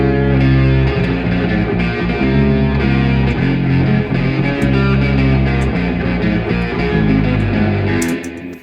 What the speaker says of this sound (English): So if you hear the guitar riff and the bass together